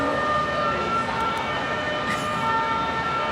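An emergency vehicle siren sounds in a busy street in Portugal, a steady wailing tone held over city background noise at moderate distance, with no talk.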